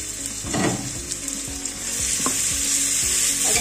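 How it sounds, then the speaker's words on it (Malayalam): Tomatoes sauté with a steady sizzle in a hot pan while chicken majboos is being cooked at home, with a few soft scrapes and stirring knocks close by and no talking. "ഇതിലേക്ക് തക്കാളി ചേർത്ത് തക്കാളി നന്നായിട്ട് വഴണ്ട് വരണം."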